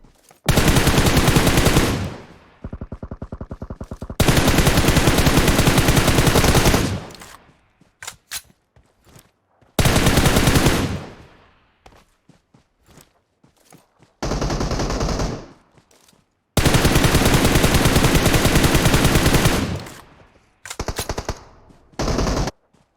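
Gunfire from a PUBG Mobile match on the Sanhok map rattles out in long, loud automatic bursts separated by gaps and short single shots, with no talking over it.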